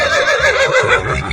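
A zebra in a 3D animal slide game lets out one loud, wavering neigh, close and clear, lasting just over a second.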